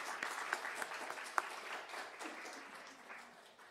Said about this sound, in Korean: 우리 성가대를 위해서 다시 한번 박수 치겠습니다